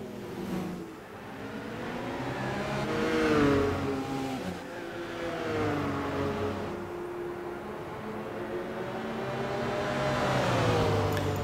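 Turbocharged LMP race car engine in Gran Turismo 6 at Spa, a continuous loud drone whose pitch climbs through the gears, dips and rises again as the car accelerates.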